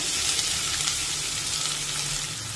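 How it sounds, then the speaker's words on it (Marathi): Two finely chopped medium onions fry with curry leaves in a pan, browning for a spicy sandge vegetable dish; a steady, close, loud sizzle hisses throughout with no voices. "आणि हा कांदा छान तांबूस रंगावर परतून घेऊया"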